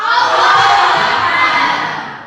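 A classroom of students shouts back in loud unison to a takbir call at the end of a lesson, one sustained, close burst of young voices lasting about two seconds before fading.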